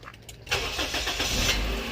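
A Toyota Vios engine cranks briefly and catches, then settles into a steady, close idle hum with no talk.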